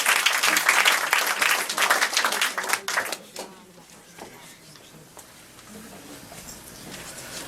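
Applause from an audience at a tribute evening for Joséphine Bacon, welcoming Christian Balavoie: dense, loud clapping for about three seconds that quickly dies away into a quiet room with faint scattered sounds.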